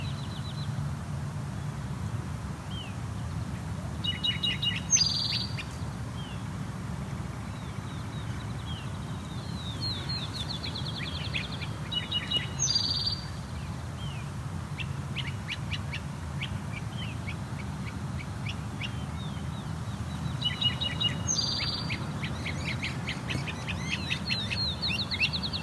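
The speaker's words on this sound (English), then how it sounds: "Now appears to be three great crested flycatchers here." Several great crested flycatchers calling outdoors, sharp rising whistled calls followed by rapid chattering series, repeated three times at intervals over a faint low background rumble.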